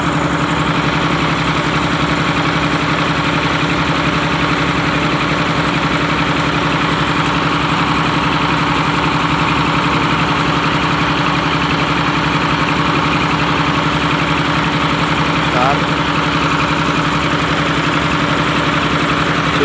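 A boat engine idles in a steady, unbroken low drone that holds the same level throughout, with no voices.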